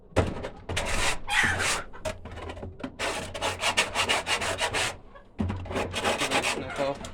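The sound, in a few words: scraper scraping out a wooden chicken enclosure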